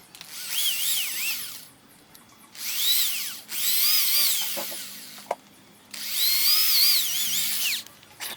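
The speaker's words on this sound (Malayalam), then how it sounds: "ഈ ഹോളൊന്ന് കട്ട് ചെയ്തെടുക്കാൻ ഡ്രിൽ മെഷീൻ ഉപയോഗിച്ച്" A power drill whines in three long, loud bursts with short pauses between, the pitch rising and dipping as it bites into material.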